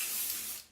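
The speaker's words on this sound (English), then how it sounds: "spray, not too much" A single short, close burst of hairspray misted onto hair, a soft airy hiss that fades out at the end.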